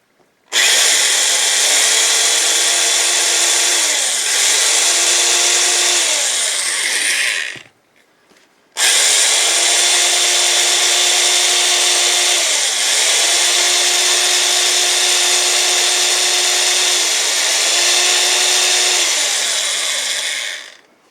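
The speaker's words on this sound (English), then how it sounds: "Watch how many watts this drill takes." A power drill run on off-grid solar power at a cabin whirs loudly and steadily, revving and dipping in pitch several times, stopping briefly before running again for a long stretch.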